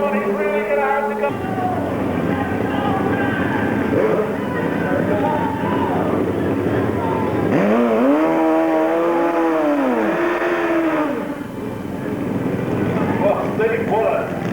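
Suzuki drag bikes at the 1993 European Drag Bike Championship at Avon Park, engines roaring loud and steady off the start line with a rising, swooping launch note, under continuous commentary.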